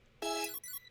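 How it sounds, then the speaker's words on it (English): A phone ringing sound effect sits in a hyperpop song, a single bright electronic ring that begins sharply, cuts out briefly, then returns for a short burst before stopping, clear and upfront with no voices. "We've got some phone sound effects as well that are also in the intro. So we got just like a ringing sound."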